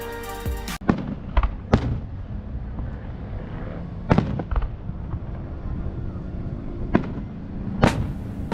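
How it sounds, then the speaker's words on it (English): Fourth of July fireworks show in Austin, Texas: a string of sharp booming bursts at irregular intervals, several close together then spaced apart, over a steady rumbling crowd and ambient wash, fairly loud and somewhat distant. "be ready for the fireworks show"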